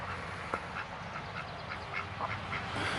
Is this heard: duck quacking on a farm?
yes